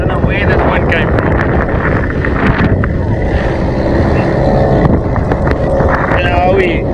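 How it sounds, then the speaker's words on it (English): Strong wind roars across the microphone on a lake while out in a fishing boat, loud and continuous, with rumbling gusts and some voices under it. "I don't know where this wind came from."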